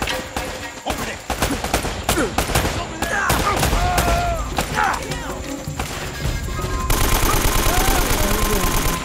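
Rapid automatic gunfire and bursts of shots in the action video game Uncharted, loud and dense, mixed with impacts and crashes while voices talk briefly over the firefight.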